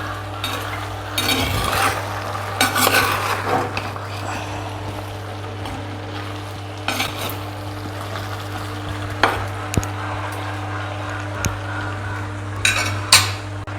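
Pallipalayam chicken stirred in a pan with onions, a spoon scraping and clinking against the metal in scattered strokes over a steady low hum, with a faint sizzle underneath and no talking.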